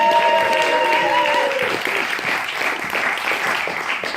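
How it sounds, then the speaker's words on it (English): A comedy club audience cheers and whoops loudly, with high shouts rising over dense clapping that carries on throughout. "And then some whooping and a hollering. Maximum noise for Chris, ladies and gentlemen."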